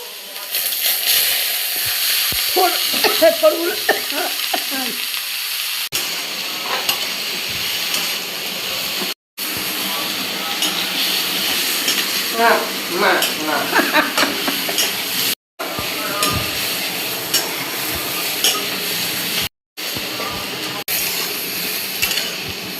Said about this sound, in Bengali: তেল গরম করে কালো জিরে ফোড়ন আর শুকনো লঙ্কা দিয়েছি